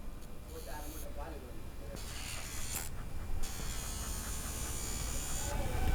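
A Qpets electric nail grinder files a Shih Tzu's nails with a close, steady high buzz that cuts in and out in short stretches. A person talks over it.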